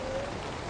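Heavy rain in the Minibus Simulator Vietnam driving game, a steady broadband hiss of downpour on a County limousine minibus, continuous and fairly loud for a brief moment with no talk.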